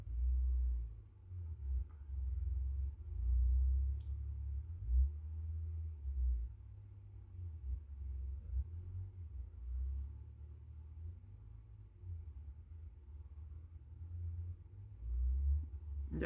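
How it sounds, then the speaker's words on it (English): A low engine rumble outside that rises and falls in waves, steady and moderately distant, with no one talking. "I hear a car revving outside."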